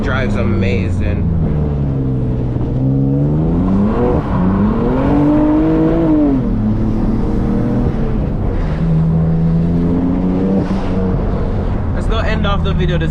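Loud, close engine of a manual BMW F80 M3 while drifting, revs rising and dropping in repeated swells, with wind noise and brief tire or gear sounds at the edges.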